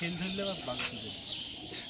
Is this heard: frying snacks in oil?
no